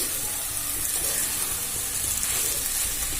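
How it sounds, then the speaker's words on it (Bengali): Soaked rice fries in a pan while being gently stirred for chana dal pulao, a steady close sizzle with a hissing, watery texture that continues evenly throughout. "তাই আস্তে আস্তে করে নাড়াচাড়া করে আমি ভেজে নেব"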